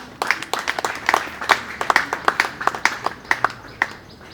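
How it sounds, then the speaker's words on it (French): Scattered, uneven clapping from a small audience at a congress in Kinshasa, Congo, with distinct individual hand claps in a loose irregular rhythm rather than a dense roar, moderately near. "Voilà pourquoi on peut encore applaudir très profondément."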